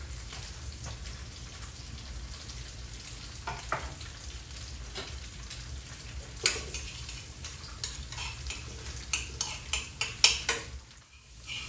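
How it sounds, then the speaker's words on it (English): Garlic frying and browning in a pan, a steady soft sizzle with scattered crackles and popping spatters growing more frequent toward the end, then dropping away. "Here the garlic brown."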